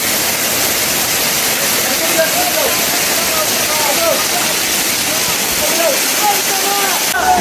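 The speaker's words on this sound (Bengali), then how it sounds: "ঝর্ণা ক্ষণে ক্ষণে তার ভয়াল রূপ দেখাইতেছে এই দেখেন আসল ঝর্ণা" Steady, loud rushing of the Mayabi waterfall at Jaflong, Sylhet, fills the scene, a broad constant roar with faint voices and movement underneath.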